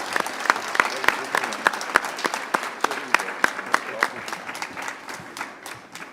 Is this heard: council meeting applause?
yes